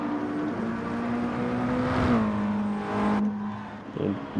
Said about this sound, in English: we'll go watch Rowdy as he comes around the chicane here to begin his lap number 8